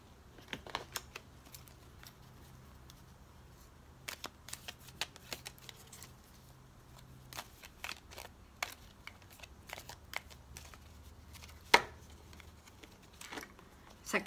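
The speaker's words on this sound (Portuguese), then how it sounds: "ela é difícil de embaralhar porque ela é formato de coração" Heart-shaped tarot cards are shuffled close up, giving soft, irregular clicks and flicks, some in quick clusters, against a quiet background.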